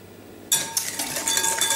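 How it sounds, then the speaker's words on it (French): A whisk beats white chocolate brownie batter and sugar in a bowl, starting abruptly with a steady, close, rapid scraping and clinking against the bowl that continues to the end. "On fouette ça."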